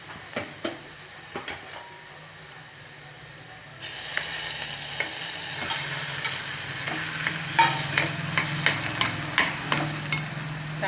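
Roasted eggplant bharit being stirred in a pan, a quiet stretch giving way to steady sizzling with rhythmic scraping strokes of a spoon against the pan, close and fairly loud.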